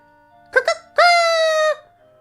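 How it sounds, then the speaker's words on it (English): A cucco, the chicken from the video game Zelda Ocarina of Time, gives two short clucks and then one long, loud, harmonic crow up close with nothing else heard. "It makes them very happy to crow."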